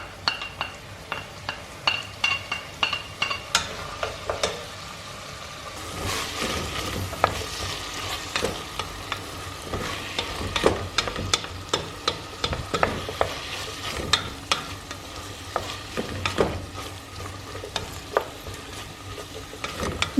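Celery sautéing for pasta e fagioli is stirred in a pan, with a steady soft sizzle and many light clinks of the utensil against the pan, close and fairly quiet.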